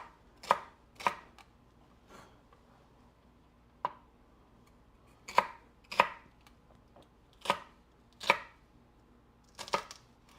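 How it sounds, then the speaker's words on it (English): Celery and carrots being chopped with a knife on a cutting board during meal prep, a series of separate sharp chops with uneven gaps between them, close and clear against a quiet kitchen. "So I cut up all the celery and stuff and carrots just for they're for both recipes"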